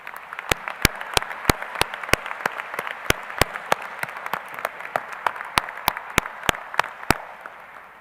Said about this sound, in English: So please join me in giving a round of applause to school staff and instructors.